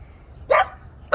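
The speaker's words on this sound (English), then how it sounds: "That's my dog." A dog barks twice close by, sharp loud barks separated by a short pause over a low background rumble.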